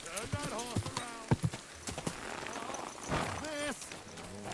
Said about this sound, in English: Turn that horse around.